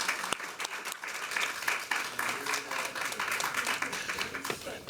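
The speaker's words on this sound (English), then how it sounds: "let's give another round of applause to our newest Arlington Dancing Stars" Audience applause at a school board meeting honoring the Arlington Dancing Stars, moderately dense clapping with distinct individual claps and crowd murmur underneath, lasting about five seconds.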